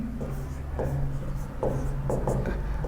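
A pen scratches out a trigonometry formula by hand in short strokes and pauses, close and moderately loud, with faint voice traces underneath.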